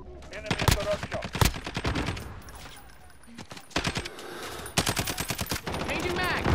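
Gunfire from Call of Duty: Modern Warfare in a Juggernaut match: rapid automatic bursts crackle in repeated volleys, loud and close, with brief lulls between and game voice callouts mixed in.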